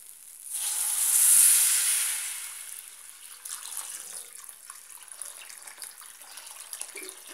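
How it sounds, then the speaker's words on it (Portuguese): Tap water streams into a pot of rice, a bright hissing pour that swells and fades within a couple of seconds, then gives way to soft splashes and handling noises. "E agora eu vou pôr água."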